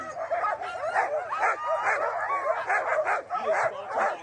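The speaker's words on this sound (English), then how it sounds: "Josh is 31, mushing out a Crooked Creek Kennel with 35 dogs." Sled dogs at the start of the Kuskokwim 300 mushing race bark, yip and whimper together in a dense, continuous chorus, close and loud, with no talk over them.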